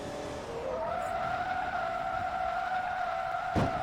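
A car in Forza Motorsport 2, racing an American Iron runoff at Road Atlanta, is handbraked across the finish line, letting out a loud sustained tire squeal over engine noise that ends in a sharp thump as it clips the wall.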